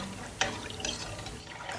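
Water pours from a vessel into a cooking pot of khichdi after rock salt is stirred in, a brief close splash and trickle with a couple of soft surges.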